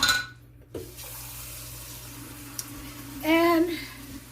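A kitchen tap runs into a sink to soak mixing blades, a hissing stream that cuts off, then a quiet gap, then a short rising burst of filling water, with a low steady hum beneath.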